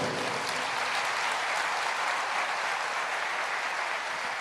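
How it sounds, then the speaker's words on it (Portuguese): A church congregation applauding, a steady, dense wash of clapping from many hands that holds evenly for several seconds with no talk over it. "Pode aplaudir ao Senhor."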